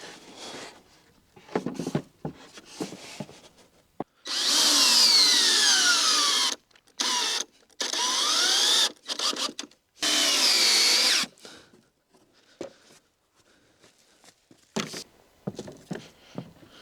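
A power drill whines in several bursts, rising and falling in pitch as it drives screws into a wooden platform for a wildlife photo blind, with quieter handling clatter between runs.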